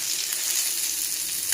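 Fish fries in hot oil in a pan, a dense continuous hiss and crackle heard up close and alone.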